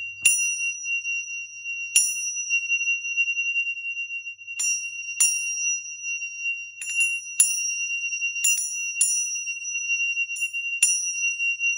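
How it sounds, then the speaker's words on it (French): A small gong is struck repeatedly during an energy-cleansing ritual, each close, clear strike ringing out with a bright sustained tone at irregular intervals, with no talking over it. "je vais faire un petit gong pour nettoyer un peu les énergies avant d'aller sur le sentimental"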